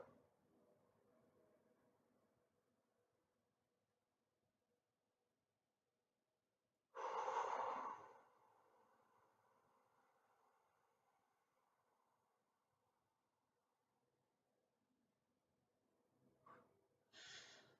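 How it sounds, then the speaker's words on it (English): A person takes a slow, controlled breath, with a quiet inhale at the start, a long silent hold, a sudden breathy exhale that trails off gradually, and then the start of another breath near the end, close and soft. "So I can do a relatively slow breathing in, hold, and then breathing out"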